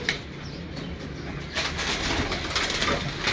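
Kalsara long pigeons cooing nearby in a loft, soft repeated coos over a steady background hiss with faint rustling.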